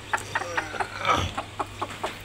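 A hen sitting with newly hatched chicks clucks in a regular rhythm of short, close clucks, about eight in quick succession, with one longer, fuller call in the middle.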